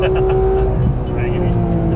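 A Porsche GT3 on a race track pulls hard under throttle, its engine a steady, loud, buzzing drone with a high harmonic whine, while a voice talks over it inside the car.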